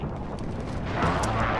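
A cruise missile explodes in the Call of Duty: Modern Warfare video game, giving a brief, heavy, rumbling boom that fills the short moment on its own.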